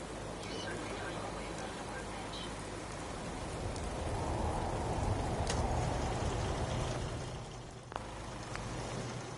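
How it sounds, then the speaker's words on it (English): Steady rain falls in the Fallout 4 game world, a dense continuous patter that swells slightly midway, with a faint voice murmuring underneath. "Thinking how wonderful it would be to get out of this infernal rain."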